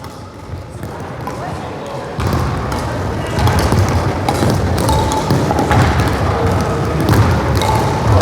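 Pickleball paddles strike the ball in repeated hollow pops during a lesson rally on a court, mixed with ball bounces, with an instructor talking over the play throughout.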